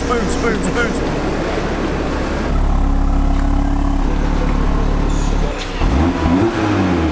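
An Audi RS3 engine rumbles loudly nearby, its low exhaust note swelling and shifting as revs rise, with voices talking over it.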